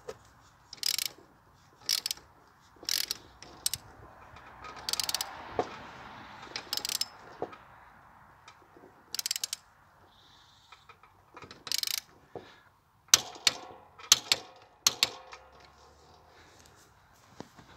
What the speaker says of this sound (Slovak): Počuli ste to kliknutie, to znamená, že sme dosiahli uťahovací moment 65 Nm.